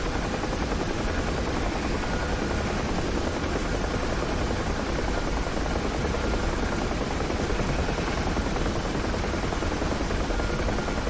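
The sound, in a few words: UH-1H Huey helicopter rotor in DCS video game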